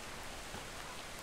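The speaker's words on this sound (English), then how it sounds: "Some rain." Steady rain in the video game Atlas, a continuous even hiss of falling drops with no talk over it.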